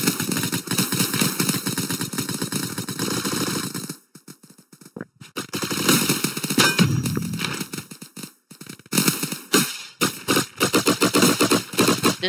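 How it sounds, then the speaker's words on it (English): Gunfire crackles in a Roblox airsoft combat game, loud rapid strings of shots broken by short pauses and sparse single reports, with no talking over it. "The sound of the sniper."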